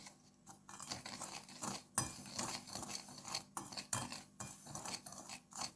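A utensil scraping and clinking against a bowl in repeated strokes, close and fairly loud, as chocolate cupcake batter with cocoa is stirred, with no talking.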